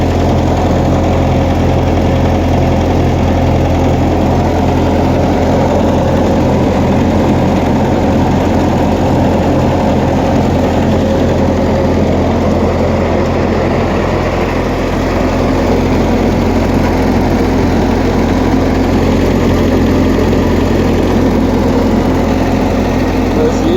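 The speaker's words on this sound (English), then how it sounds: "Oh yeah, she's just idling up, no problem." A 1956 Massey Ferguson F40 tractor engine idles steadily and close by, a low, even chugging rumble with a regular rhythm that holds throughout with no talk over it.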